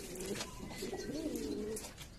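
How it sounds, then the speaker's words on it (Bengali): A pair of Turibaj tumbler pigeons coo softly nearby, low rolling warbling calls repeating over faint background noise, with no speech. "এখন যে জোড়াটা দেখতে পাচ্ছেন এগুলো হচ্ছে তুরিবাজ কবুতর।"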